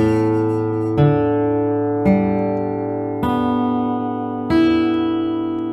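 Guitar rest strokes across the strings ring out as four evenly spaced, full strums with a fingertip or thumb. Each chord sustains richly into the next, with a soft attack and no talk.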